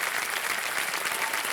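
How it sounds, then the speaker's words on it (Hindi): A studio audience on the KBC quiz show applauds for a contestant's aunt, a dense, steady burst of clapping filling the space without any voice over it. "तालियां बजाएं"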